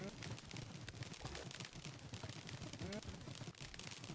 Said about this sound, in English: Fortunately, the cow cannon is working pretty nicely at the moment.